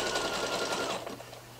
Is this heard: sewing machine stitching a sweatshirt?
yes